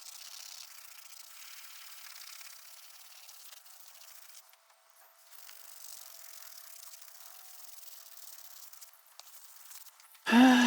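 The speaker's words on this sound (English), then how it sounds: "We might have to go to a more serious scouring pad." A scouring pad rubs steadily over the exterior surface of a vintage 1976 RV during cleanup, a continuous close scrubbing hiss with a brief pause midway, ending in a sudden loud bump.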